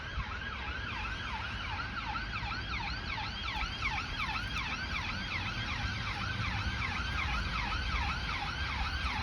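A wailing ambulance siren sweeps up and down repeatedly, loud and steady over traffic rumble, as the ambulance passes close by.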